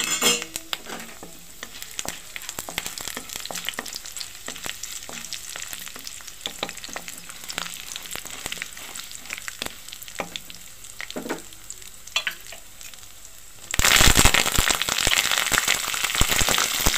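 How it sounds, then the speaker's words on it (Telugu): Chana dal and urad dal frying in hot oil, a steady crackling sizzle with scattered sharp pops, growing suddenly louder and denser near the end. "శనగపప్పు మినపప్పు వేసి ముందు వేగించుకుందాం."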